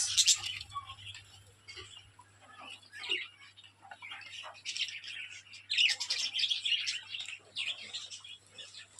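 Colony-bred pet birds kept in breeding pairs with eggs and chicks chirp and tweet in quick, scattered bursts, some close and sharp, over a low steady hum.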